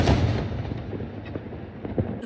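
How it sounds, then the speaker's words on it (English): Fireworks going off outside, a dense run of low booms and crackles that keeps rumbling steadily from start to finish with a few sharper pops, fairly loud and with no talk over it. "the fireworks are distracting me from what I'm wanting to say"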